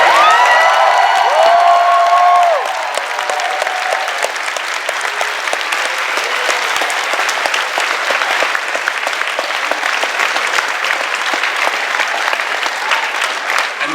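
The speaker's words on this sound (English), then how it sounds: "Everyone give them a big round of applause." A large convention audience in a hotel venue bursts into loud, sustained applause with some cheering, a dense wash of clapping that holds steady for the whole stretch after a brief voice at the start.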